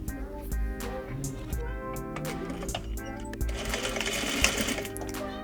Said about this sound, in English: sew an edge stitch along the pleat line.